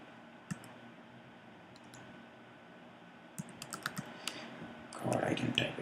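Scattered keystrokes on a computer keyboard while entering command-line instructions, faint and sparse at first, then a quicker run of clicks and a louder rustle near the end.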